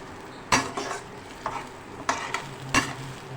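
Ingredients such as paprika and crushed chili going into a pan of spaghetti tomato sauce and being stirred: steady sizzling and frying close by, broken by four louder clattering stirs and scrapes of a utensil against the pan.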